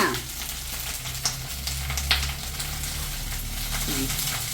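Food sautéing in a pan for a kitchen dish, giving a steady close sizzle and frying hiss throughout with a couple of faint utensil clinks.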